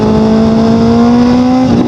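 A motorcycle fitted with an Austin Racing aftermarket exhaust holds a steady loud drone for about two seconds, its tone rising slightly before dropping off at the end, with no talk.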